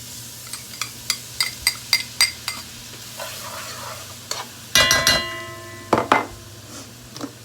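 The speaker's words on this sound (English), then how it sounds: "I'm gonna cook until garlic golden brown" Garlic frying in a pan until golden brown, a faint steady sizzle under a string of sharp, evenly spaced utensil clicks, then louder clattering scrapes of the pan near the end.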